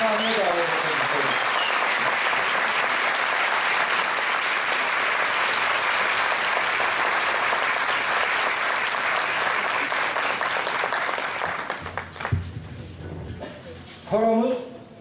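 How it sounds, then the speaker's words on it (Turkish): Audience at a university Sufi music concert in Muş applauds as the choir conductor is invited to the stage; sustained, dense clapping fills about eleven seconds and then fades, followed by brief talk. "Ercihan Ülger hocamızı alkışlarımızla sahneye davet ediyoruz."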